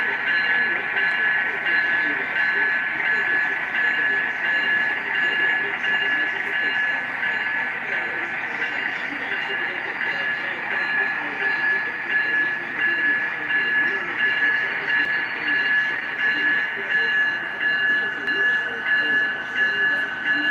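A steady, droning whir of a small train motor runs continuously with a faint high tone, close and even in level throughout.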